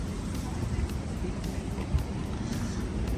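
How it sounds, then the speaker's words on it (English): A low, rumbling engine of a high-mileage 2014 Vauxhall Corsa idles steadily, broadband noise with some wind buffeting on the microphone, heard close and continuous throughout. "The engine sounds pretty good."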